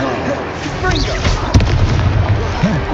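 A Confringo spell explodes in a wizard-themed video game, one booming burst amid busy continuous game sounds and voices.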